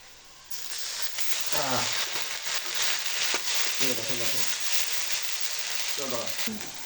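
Onions and a spice paste of cumin, garam masala, turmeric, chili, garlic, ginger and onion hiss and sizzle steadily in a pan for a quail egg tomato curry, with a few short voiced bursts of talk over the frying.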